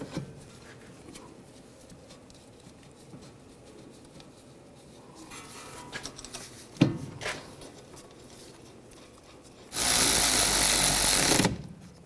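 A power tool drives bolts into the rear wheel hub assembly of a 2013-2016 Dodge Dart, first a few faint clicks and knocks, then a loud, steady whirring burst lasting a couple of seconds near the end.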